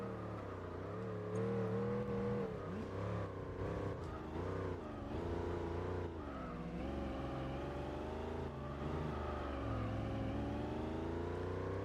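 Gran Turismo 4 race car engine droning and shifting pitch under braking and cornering, a steady synthesized whine with wavering tone throughout, moderately loud with no talk.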